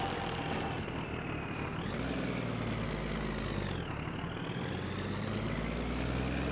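Truck engine idling and revving in My Summer Car, a steady low rumble whose pitch rises and falls, with short bursts of air-brake hiss at several points, fairly faint and without speech.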